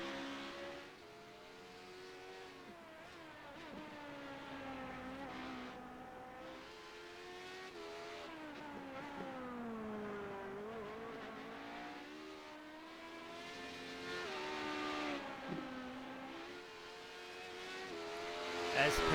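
LMP2 prototype race cars circle a track at night, engines rising and falling in pitch as they accelerate and shift, heard at a moderate distance as a continuous layered roar that swells toward the end.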